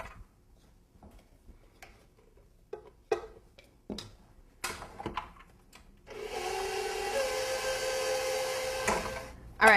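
Before a stand mixer starts there are scattered clicks and taps. Then it whirs into a steady, loud mechanical hum as it mixes cake batter, and it cuts off with a final clunk.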